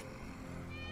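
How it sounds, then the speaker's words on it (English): A single short cat meow from Final Fantasy VII Remake, clear and close, its tone rising slightly, with no other sounds over it. "That's Wedge's cat."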